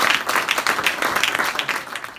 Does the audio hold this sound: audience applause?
yes